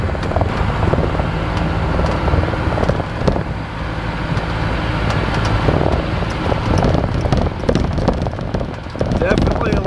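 Steady road rumble and wind buffeting from a vehicle driving at about 15 miles an hour to test its shocks, a continuous loud drone with jolts and bumps throughout, recorded from inside.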